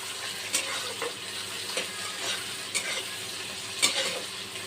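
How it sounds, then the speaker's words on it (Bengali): Chopped onions and green chilies fry with five-spice for a tomato chutney, a soft steady sizzle broken by occasional scrapes and stirring taps. "ভালো করে লাল করে ভাজা করে নেব।"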